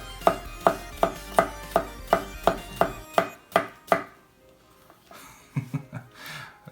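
A budget chef knife chops food on a cutting board: about ten crisp, evenly spaced strikes close by, then a short pause and a few softer, quicker cuts.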